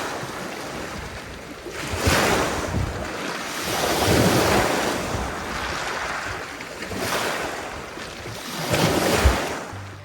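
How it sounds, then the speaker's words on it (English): Waves crash onto a rocky beach in repeated surges, each building to a roaring peak and tossing rocks ashore, with wind rumbling across the microphone throughout. "When the waves crash, they toss the rocks onto the shore,"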